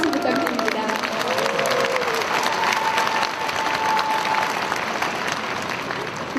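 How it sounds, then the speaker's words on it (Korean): A crowd at a political forum launch rally applauds the singers after their performance with loud, continuous clapping and some cheering, and voices are audible beneath it. "멋진 노래를 불러주신 분들께 다시 한번 큰 박수 부탁드립니다."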